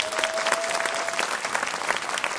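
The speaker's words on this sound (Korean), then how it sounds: "다시 한번 우리 찬양 팀에서 박수 한번 쳐주세요" A church youth congregation claps for its worship team in a lively, fairly close burst of applause, with a brief sustained tone ringing under the first half.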